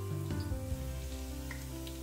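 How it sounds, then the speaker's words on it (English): Rosemary sprigs dropped into hot cooking oil for a lamb and Guinness stew, setting off a steady, close sizzle and crackle of frying that carries on throughout. "So once the oil is hot, I'm gonna put the 2 rosemary sprigs in."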